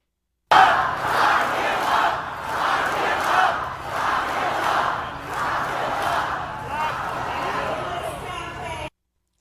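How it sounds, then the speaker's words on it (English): At a campaign rally for the vice president, a large crowd chants "lock him up" in a loud rhythmic repeated cadence, each phrase pulsing in regular waves for about eight seconds before cutting off. "the crowd started chanting, "Lock him up, lock him up.""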